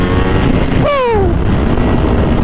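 A motorcycle running a DynoJet map accelerates loudly up close, with a rising engine note sweeping upward over steady engine and wind noise.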